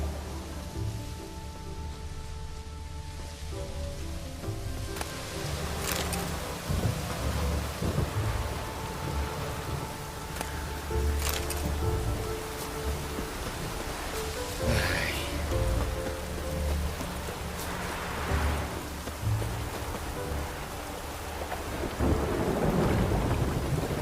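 A video-game thunderstorm from The Witcher fills the scene with steady heavy rain and deep rolling thunder rumbles, dense and continuous throughout with no speech.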